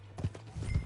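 Hoofbeats of a horse in Red Dead Redemption 2, a few heavy clip-clop thuds over a steady low game rumble, near and fairly loud, with no talking.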